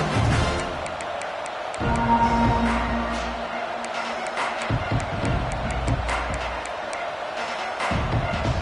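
A college football stadium crowd roars during an Ole Miss versus Oklahoma game right after the opening kickoff. The loud, sustained cheering swells with sharp bursts and claps.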